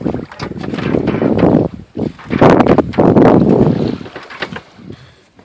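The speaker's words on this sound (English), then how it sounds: "the wind is coming from behind me" Strong gusty wind buffets the microphone in loud irregular bursts while under sail on the Pacific off Catalina Island, with the boat running northwest and the wind from behind.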